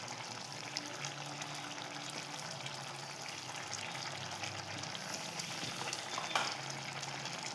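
Grated fresh coconut being stirred into a bean curry in a pan: a steady, soft sizzle and bubbling, with quiet scraping as the mixture is stirred. It is close and continuous, and no one speaks.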